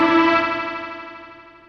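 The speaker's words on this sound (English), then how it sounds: "Looks like I had an aggressive echo set by default when I saved that preset" A single sustained synth-strings note from a Final Fantasy VI style SNES chipsynth preset rings out bright and tonal, smeared by a heavy echo as it steadily fades.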